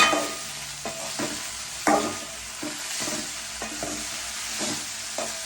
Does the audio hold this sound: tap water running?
no